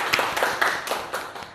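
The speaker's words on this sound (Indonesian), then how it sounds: "Tepuk tangan untuk Dava." A small classroom group claps during a microteaching session, several short bursts of hand clapping in an uneven rhythm, fairly close and moderately loud with no talk.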